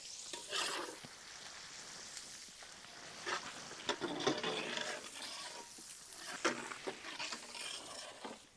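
Onion pieces frying and being stirred in hot oil with ginger and garlic for a curry leaf chicken fry, a steady close sizzle with scraping stirs and spattering bursts, no voices.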